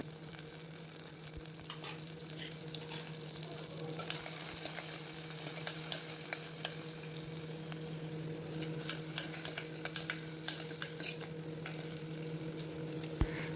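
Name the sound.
tomato frying in a pan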